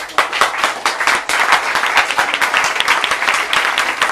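An audience at a literary reading applauds, a dense burst of many hands clapping that holds fairly steady for a few seconds at close range.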